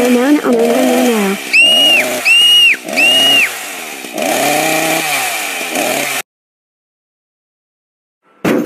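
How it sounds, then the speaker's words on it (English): A cartoon chainsaw roars loudly, its buzzing mixed with exaggerated animated voices, before it cuts off abruptly into silence, with a brief burst of sound at the very end. "I will cut your forehead off with this chainsaw"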